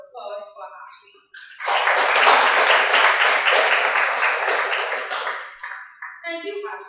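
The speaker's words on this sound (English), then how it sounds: "Please let's give another round of applause for Ashley." A crowd at a student government induction ceremony bursts into a loud round of applause for Ashley. The dense clapping swells, holds for about four seconds, then fades, with talk just before and after.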